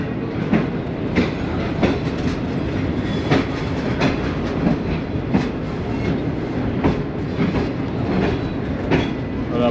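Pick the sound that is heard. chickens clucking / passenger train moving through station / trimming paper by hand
passenger train moving through station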